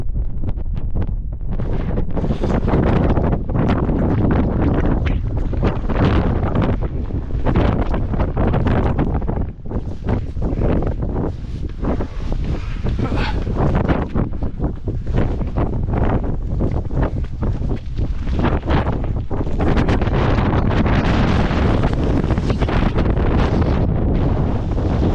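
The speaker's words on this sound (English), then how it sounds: "Sorry if you can't hear me that well. This wind is crazy." Strong gusting wind on the Llanberis Path up Snowdon roars straight into the microphone, a loud, unbroken buffeting rush that lasts the whole stretch with no talk.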